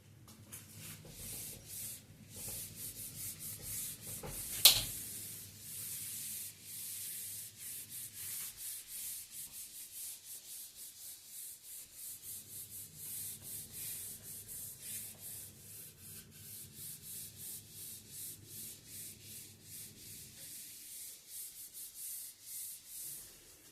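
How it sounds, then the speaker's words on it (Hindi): Steady back-and-forth rubbing of a duster erasing writing from a board in a classroom lesson, rhythmic strokes running almost the whole time with one sharp knock near the start, fairly quiet and without talk. "तो पहले हम इसको रब कर देते हैं।"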